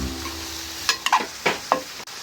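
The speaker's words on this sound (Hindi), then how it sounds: "ये माशाल्लाह बैंगनी हमारी भुननी शुरू हो गई हैं।" Eggplant pieces being fried in a pan, with a few short stirring scrapes and soft sizzle over a low background hum, close and fairly loud.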